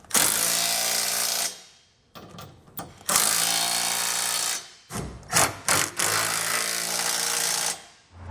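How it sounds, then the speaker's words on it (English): A 19mm socket on a ratchet or power driver snugs down trailer hitch receiver bolts on a 2013 Nissan Frontier, giving loud buzzing bursts in three runs separated by short pauses and clicks, with no talk. "we can come back with a 19mm socket and snug it all down"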